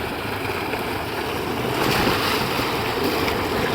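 Cold water gushes steadily from a solar-powered tubewell beside farm fields, a loud close continuous splashing rush that swells slightly midway, with no voices.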